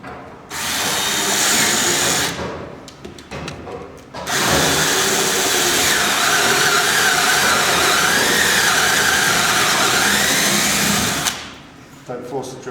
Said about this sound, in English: Drill your top one first.